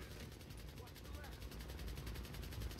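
Rapid machine gun fire in Tom Clancy's The Division, a fast rhythmic stream of shots heard somewhat distant and muffled, with a voice speaking over it.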